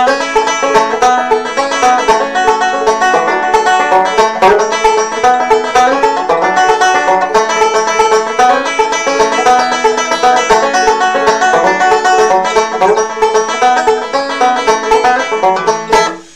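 Bright, busy banjo picking leads a steady, upbeat rock-flavored band groove, dense and continuous with no voices throughout.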